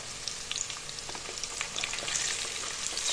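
Spices such as panch phoron, salt, turmeric and chili powder sizzle and fry steadily in a hot pan while preparing a fish curry, a continuous close crackle with small spattering pops throughout.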